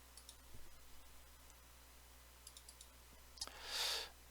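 Faint, sharp computer mouse clicks come singly and in small quick clusters in a quiet room, followed by a brief soft hiss.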